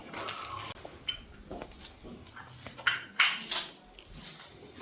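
Ceramic and metal clinks from a tea cup and spoon, a scattered series of light, bright taps and chinks at close range with quiet pauses between them.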